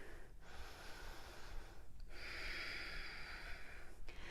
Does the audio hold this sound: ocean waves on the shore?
no